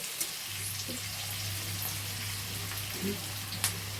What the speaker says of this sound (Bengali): এবার পেঁয়াজটা যখন একটু ভাজা ভাজা হয়ে আসছে না, চিকেনটাও দিয়ে আমি একটু নাড়াচাড়া করে নেব